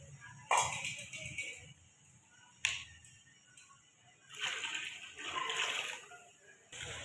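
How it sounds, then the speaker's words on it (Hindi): Water splashes and sloshes into a pot of chicken and chickpea pulao holding rice and yakhni stock, coming in a few uneven bursts of pouring separated by quieter gaps, close by and fairly loud. "ये देखिएगा पानी हमने पूरा डाल दिया अपने राइस के मुताबिक।"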